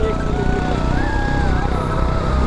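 A scooter rides along a rough off-road mountain track in Nuwakot, its engine a steady close drone with a rising whine throughout, and road noise underneath.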